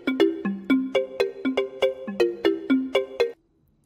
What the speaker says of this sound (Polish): ktoś do mnie dzwoni